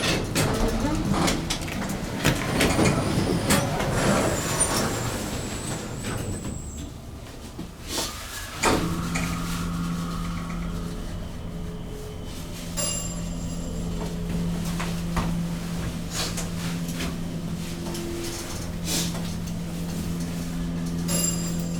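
A Montgomery hydraulic elevator at an airport terminal starts up and climbs, a sustained low motor hum and drone that settles in after rustling and clatter at the start, with a person talking at times.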